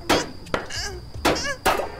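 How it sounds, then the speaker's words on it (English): Hammer blows against a door inside a heist video game set in the 1980s, three sharp loud impacts spaced unevenly across two seconds, with creaky tonal scrapes and game sounds between the hits. "I think what we should do, use the hammer"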